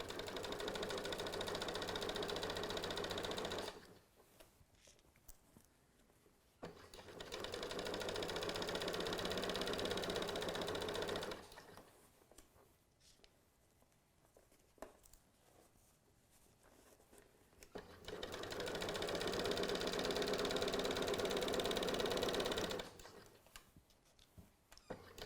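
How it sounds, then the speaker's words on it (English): Sewing machine stitching a lapped zipper along the zipper teeth in three long bursts of steady whirring, separated by quiet pauses. "this time we're going to be stitching right up along that edge of the zipper teeth"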